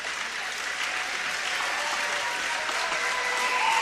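A crowd at a Waterloo basketball game applauds steadily as substituted players head to the bench, a dense, continuous wash of clapping filling the gym at an even level and swelling slightly at the end.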